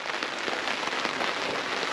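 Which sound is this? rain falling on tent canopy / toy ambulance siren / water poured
rain falling on tent canopy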